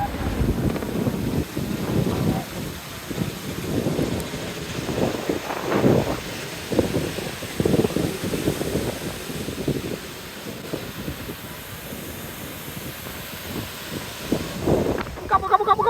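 Strong gusty wind buffets the microphone on a sunny day at Manly Beach, Sydney, with surf waves nearby, roaring in irregular loud surges through the whole stretch.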